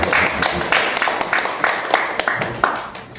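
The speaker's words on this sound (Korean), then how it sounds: "박수 한번 쳐봐요." Audience members in a lecture hall clap in uneven, scattered bursts for about three seconds, the claps fairly close and mixed with a few voices.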